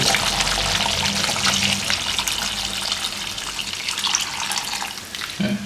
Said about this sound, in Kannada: ವಾಟರ್ ಹಾಕೊಂಡಿದ್ದೀನಿ ಇವಾಗ